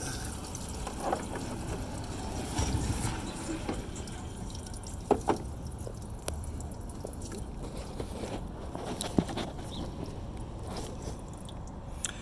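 Engine coolant dripping and trickling from a 2010–2012 Ford Fusion during a thermostat repair, an irregular patter of small drops and splashes over a steady low background hum.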